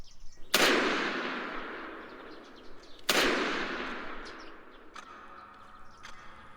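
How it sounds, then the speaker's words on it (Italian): Two sharp gunshots crack in a garden, each a loud close burst that trails off in a long reverberant echo, followed by faint clicks and soft rustling. "Su ordine del banchiere vennero sparati 2 colpi in giardino."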